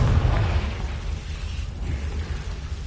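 Confringo fire spell exploding in Hogwarts Legacy, a loud rumbling blast with crackling bursts that rolls on for a few seconds before settling into low rumble.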